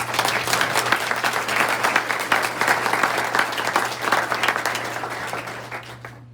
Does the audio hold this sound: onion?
no